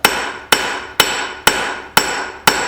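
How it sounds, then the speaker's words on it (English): A rounding hammer forges hot metal for a candle holder, six sharp ringing blows in an even rhythm about half a second apart, close and loud with no talk. "I'm just spreading this out with my rounding hammer."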